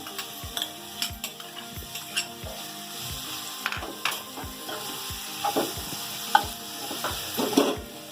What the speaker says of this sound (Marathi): त्याच्यात थोडा गाजर परतून घ्यायचा